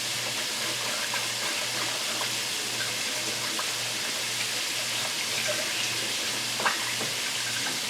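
Tap water runs steadily while hands are washed in a kitchen, a constant even rush at moderate distance, with a faint low hum underneath and no voices.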